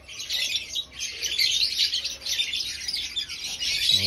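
Pet African lovebirds in breeding cages chirp in a dense, continuous chatter of high, overlapping calls, nearby and fairly loud, with no talking.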